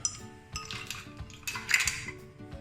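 Ice cubes dropped into a glass of jamboo (rose apple) juice, a few separate clinks and knocks spaced over a couple of seconds, close and fairly quiet, with no speech.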